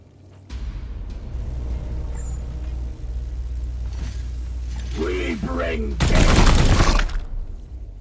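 Gunfire in the Warhammer 40,000: Chaos Gate - Daemonhunters video game, a sustained loud burst of shots and impacts with a rumbling background, punctuated by game effects and a dense roaring blast near the end.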